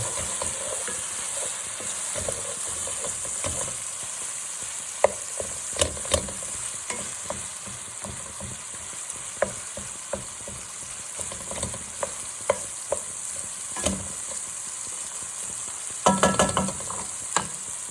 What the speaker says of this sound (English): we just want to stir those in